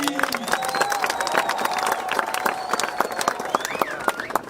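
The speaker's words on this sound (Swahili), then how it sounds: "Wapi makofi?" An audience claps and cheers at the official opening ceremony of a college, a dense, steady wash of hands clapping throughout, with scattered crowd voices mixed in.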